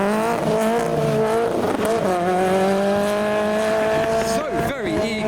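Modified Ford Fiesta revving hard as it pulls away from a car show in heavy rain, a loud rising and falling engine note close by, with other cars and a voice talking in the background.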